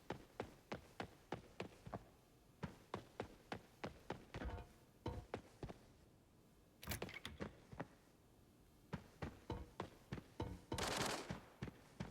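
Rapid, repeated gunshots from a bot in the video game Arena Breakout fire in steady bursts, with a couple of louder blasts breaking the rhythm.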